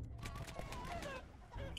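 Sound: chicken clucking, from Totally Accurate Battle Simulator video game

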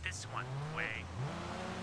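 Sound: car engine revving in Sleeping Dogs video game

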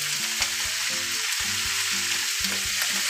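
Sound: stirring potato and cabbage sabzi frying in a pan

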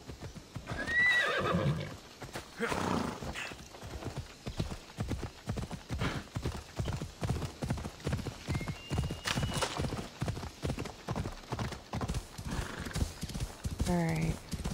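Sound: horse neighing and hooves in Assassin's Creed Odyssey video game

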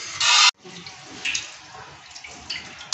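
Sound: water running while washing grated carrots

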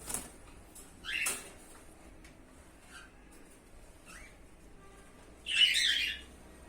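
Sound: budgerigars squawking, angry male placed next to female

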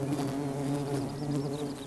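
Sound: wild bees buzzing

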